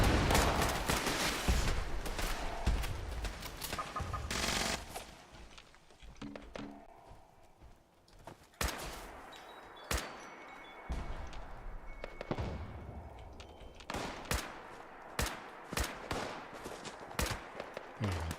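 Gunshots from a player's weapon in Fallout 76, a few early bursts then a run of sharp separate shots later on, fairly quiet and spaced apart with game ambience between.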